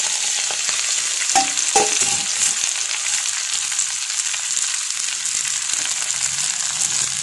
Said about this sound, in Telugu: ఒక 2 table spoons of oil add చేసుకున్నాక మన గోంగూరని దాంట్లో వేసుకోవాలండి.